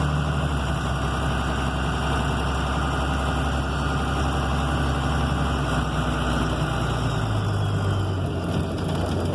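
A 1994 12-valve diesel truck engine with a low stall torque converter in a 47RH transmission, idling steadily with a loud, continuous low rumble and no talk.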